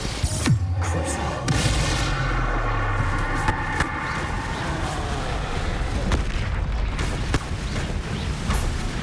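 Explosive spell blasts in Hogwarts Legacy combat, with booming impacts and mechanical clatter over a dense, loud game soundtrack, heavy rumble throughout and a few sharp hits.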